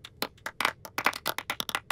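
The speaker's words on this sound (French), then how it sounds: "Un tonnerre d'applaudissements pour tout le monde." Scattered, uneven hand claps from a small group in a scene from a French-dubbed Nigerian film, a quick run of sharp, close slaps with no talking.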